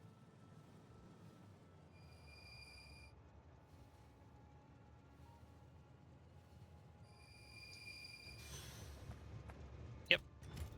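Trains running on rails in the Factorio video game: a steady, low rumbling roll with brief tonal whines near the start and end, then a louder surge and a sharp click near the close.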